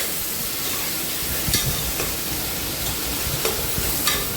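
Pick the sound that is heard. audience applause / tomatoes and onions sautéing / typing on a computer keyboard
tomatoes and onions sautéing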